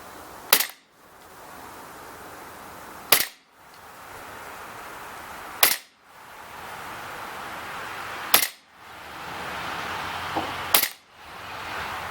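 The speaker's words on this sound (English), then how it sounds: "We're going to shoot 5 rounds through the chronograph and see what kind of feet per second we get with propane versus CO2." WE SCAR-L 6mm airsoft rifle firing propane-powered BBs through a chronograph, five sharp, loud single cracks evenly spaced about two and a half seconds apart, each followed by a brief hiss, with no talking.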